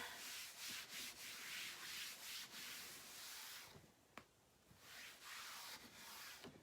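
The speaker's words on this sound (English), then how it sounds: "Now I'm going to take a Clorox wipe or a Lysol wipe, whatever you have." A Clorox or Lysol disinfecting wipe rubbed over a crafting surface to clear chalk residue, repeated soft close swishing strokes in an uneven back-and-forth rhythm, quiet and with no talk.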